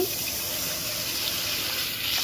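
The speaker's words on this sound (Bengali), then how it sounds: "ভাজা হয়ে গেছে একটু পানি দিব মশলা কষানোর জন্য" Water is poured into a pan of frying onions and spices for a hilsa fish curry, making a steady, close gushing hiss that holds evenly for about two seconds.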